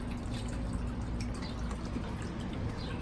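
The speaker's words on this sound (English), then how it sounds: "so we do have to water here even if it rains" Soft trickling and dripping of water poured onto potted plants on an enclosed patio, a low, continuous quiet wash heard close up.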